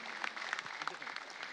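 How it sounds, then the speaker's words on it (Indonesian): Dense crowd applause at an Indonesian peace campaign declaration event for the 2024 election, a steady wash of many hands clapping at moderate distance without a break. "Beri tepuk tangan dan semarak yang meriah Bapak Ibu."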